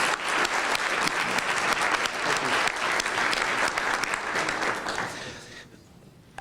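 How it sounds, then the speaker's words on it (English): A room of Rotary Club members at a Louisville meeting gives a speaker a round of applause: dense, loud, sustained clapping from many people that fades out near the end. "First, I want to give you a round of applause and thank you for your service and great speech."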